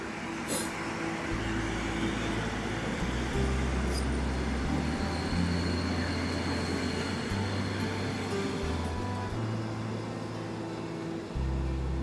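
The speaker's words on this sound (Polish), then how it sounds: "Poczekajcie chwilę, pociąg jedzie." A passing train rumbles low and steady in the distance, its deep engine drone shifting pitch as it goes by, fairly faint.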